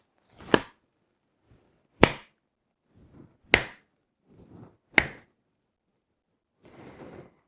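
Four sharp, loud hand claps spaced about one and a half seconds apart tap out a song's rhythm, close and alone in a quiet room, with faint softer taps between.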